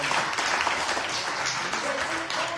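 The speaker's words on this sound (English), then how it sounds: "Can you give all these brothers and sisters a round of applause for everything that they gave?" A large audience at a keynote presentation gives sustained, dense applause, a steady wash of many hands clapping throughout, with a faint voice near the end.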